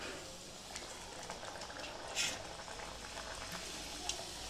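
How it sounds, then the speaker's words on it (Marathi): Oil heating in a kadhai (wok) before frying sweet pumpkin puris, giving a steady soft bubbling hiss with faint crackles throughout, low and continuous, no talking over it. "आता पुऱ्या तळते। तेल ठेवलं गरम करायला"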